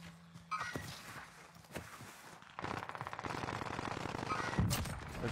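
Automatic gunfire in the Call of Duty Warzone match on the Caldera map, a few scattered shots followed by a sustained rapid burst with footsteps and game noise, moderately loud.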